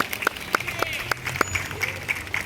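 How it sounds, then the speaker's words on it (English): A zoo crowd claps at the start of a California sea lion show, with scattered, moderately loud hand claps in a loose rhythm. Faint voices and outdoor bustle sit underneath. "Let's give them a big round of applause to start them all off."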